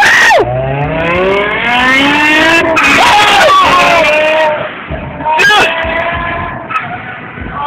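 A Nissan GT-R and a BMW M6 race flat out, their engines screaming up through the gears with rising whines and sharp shifts, passing close and loud with tire noise, while people in a following car shout excitedly over it.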